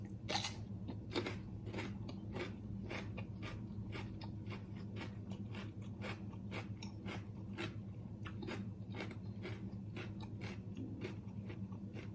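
Crunchy chewing of a spicy Thai salad close to the mouth, a steady run of crisp bites and crunches over a constant low background hum, no talking.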